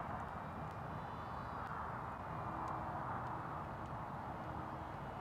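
A ZOHD Dart 250g RC plane flying with the throttle increased, a faint, steady airborne motor drone with wind rush, heard from a distance throughout.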